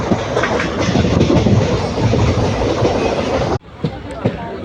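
A crowded passenger train runs steadily on its rails between Coimbatore and Palakkad, its loud continuous rumble and rhythmic clatter filling the carriage before a sudden brief dip and quieter rolling.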